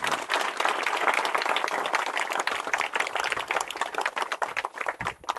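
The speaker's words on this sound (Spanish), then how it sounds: "Fuerte aplauso para este equipo." A hall audience at a religious gathering breaks into strong applause, a dense, loud wash of clapping that holds steady and then begins to break up into looser claps.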